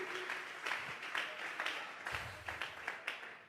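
A church congregation claps together in a brief round of applause, fairly faint and distant, with a steady patter of hands over about three seconds.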